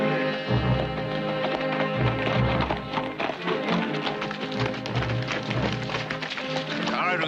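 Horses walk along a trail, their hooves clip-clopping in a steady rhythm beneath a dense, continuous orchestral music score that largely dominates.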